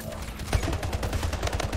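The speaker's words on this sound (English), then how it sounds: "This is a purple SMG looking thing." Rapid SMG fire in the video game Splitgate, a purple submachine gun with a reflex sight, heard as a loud, sustained burst of fast shots that fills the whole moment.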